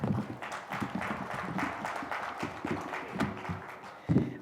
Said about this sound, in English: So let's not be stingy with that applause.